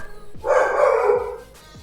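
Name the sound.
dog barking in the room during a WoT Blitz livestream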